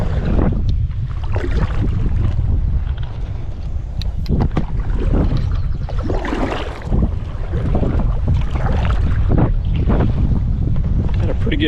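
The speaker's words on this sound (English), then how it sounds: "Pretty good headwind." A strong headwind roars and buffets the microphone from a small boat on the White River, a loud, continuous rush of wind noise with faint water sounds beneath it.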